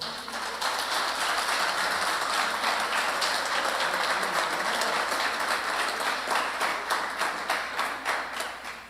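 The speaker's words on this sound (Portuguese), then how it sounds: "Agora aplauda o Senhor." A church congregation claps together during a worship service, a dense, steady wall of applause filling the space and growing into more distinct rhythmic claps toward the end.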